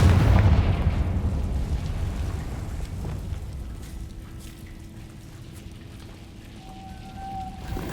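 The Confringo fire spell in Hogwarts Legacy goes off as a loud fiery blast at the start, then rumbles and crackles away into quieter ambient game sound with a faint tone near the end.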